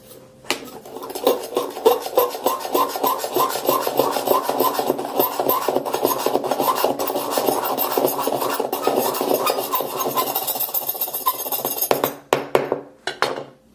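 Something is scraped hard in circular strokes across the back of a black iPhone 7, making a loud, continuous, gritty rasping at close range that breaks into a few separate scrapes at the end.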